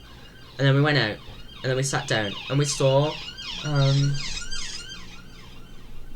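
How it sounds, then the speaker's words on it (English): Wailing sirens rise and fall in the background while a person talks over them. "Sorry about the sirens."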